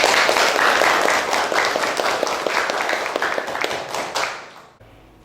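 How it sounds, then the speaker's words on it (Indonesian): Classroom applause from students clapping together, a steady dense patter that fades and stops abruptly near the end. "Tepuk tangan untuk kita semua hari ini."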